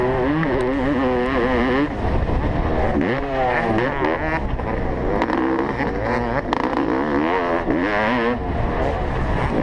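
A 1989 Honda CR500 two-stroke motocross bike races alongside modern MX bikes, with several engines revving and shifting continuously, loud and close, rising and falling pitch sweeps overlapping throughout.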